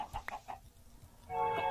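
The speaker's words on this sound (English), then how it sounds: "I hear lots of chickens right now" Chickens cluck in the Minecraft Blightfall game, several short close clucks at first, then a sustained louder bird squawk toward the end.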